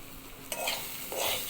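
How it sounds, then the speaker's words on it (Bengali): Mustard paste with chili powder is stirred and sautéed in a pan for hog plum chutney, giving a soft steady sizzle with two scraping stirs, heard close and alone. "আবারও ভালো করে কষিয়ে নিচ্ছি"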